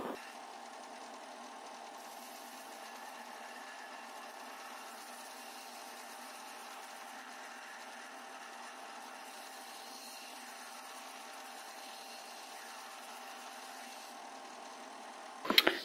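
A belt sander fitted with a grit 80 abrasive belt runs while a contest knife blade is cleaned and polished toward a mirror finish, giving a steady, even motor hum and belt whir throughout, fairly quiet, ending with a brief clatter.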